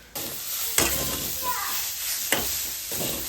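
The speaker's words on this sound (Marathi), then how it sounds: "नंतर आपल्या चवीनुसार मीठ टाकून घ्यायचं आणि भाजी हलवून घ्यायची." Salted khurasani leaf vegetable being stirred in a pan, with a steady close sizzle broken by a few distinct scraping strokes of the spoon across the pan.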